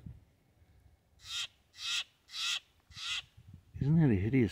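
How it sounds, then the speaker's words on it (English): Two Steller's jays give loud, harsh, rasping calls in four evenly spaced bursts, followed by a louder, wavering squawk at the end; a voice speaks faintly beneath. "I got two Stellar Jays."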